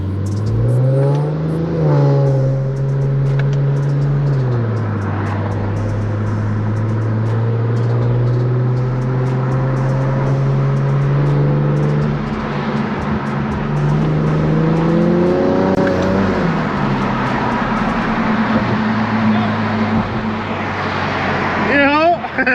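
Infiniti Q60 without an intercooler revving in short, gentle pulls, the engine tone rising and falling several times, steady and close throughout, with a voice talking over it.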